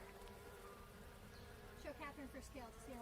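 A honey bee swarm hums in a dense, steady buzz, with individual bees whining past close by. The sound is faint and continuous, and people talk softly in the background.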